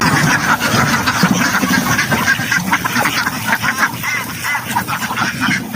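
A flock of ducks quacking loudly and continuously, close by and overlapping, as the birds are let out of their pen on a small duck farm; a low engine hum runs underneath.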